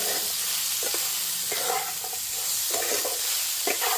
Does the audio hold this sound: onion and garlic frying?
yes